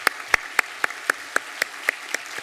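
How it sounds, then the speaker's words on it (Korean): Crisp hand claps at a church Sunday service, struck in an even, fast rhythm about four per second, close and distinct with no talking. "우리 따뜻한 박수로 환영하겠습니다"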